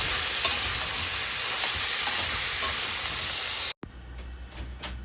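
Cut eggplant tossed into a pan where hilsa fish has been frying: a loud, steady oily sizzle and hiss fills the clip, then cuts off abruptly, leaving a softer crackle.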